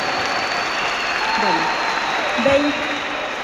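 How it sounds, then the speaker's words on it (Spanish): Applause from a church audience, a dense, steady wash of clapping filling the space, while someone speaks briefly over it. "Un aplauso para esta hermana."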